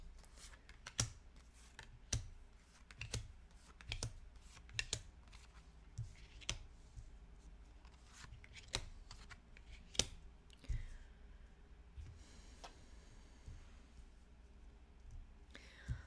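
Tarot cards laid out one by one on a table, soft slaps and flicks at an irregular pace, quiet and close in a still room.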